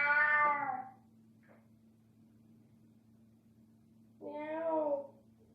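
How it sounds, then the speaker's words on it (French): Two drawn-out cat meows, a fairly loud one at the start and a second after a long quiet gap, over a low steady hum. "Miaou."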